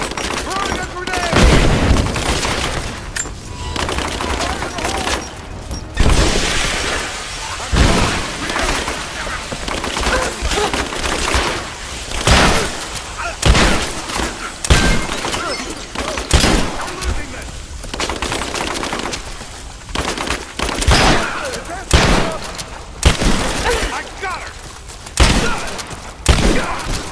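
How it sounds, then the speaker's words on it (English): Dense, sustained gunfire from a Rise of the Tomb Raider firefight, with rapid machine-gun bursts and heavy booms from a thrown grenade, loud and continuous throughout, with shouted voices mixed in. "Throwing a grenade."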